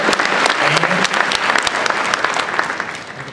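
An audience at a Walking Dead panel at San Diego Comic-Con 2012 bursts into dense, loud applause that holds for a few seconds and then gently tapers off.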